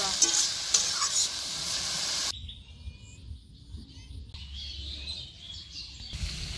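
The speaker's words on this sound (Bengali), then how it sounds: "আমি ভালো করে ভেজে নিচ্ছি" Grated cucumber frying in a pan after its water is squeezed out: soft continuous sizzle with stirring scrapes, loud at first, then quieter after a sharp drop, with faint bird chirps in the background and no talk.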